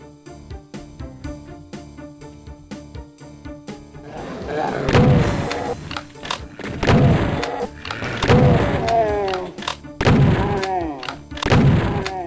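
Super shotgun blasts in a Doom custom WAD level: a few heavy booming shots ring out over driving in-game music, with monster noises and impacts mixed in.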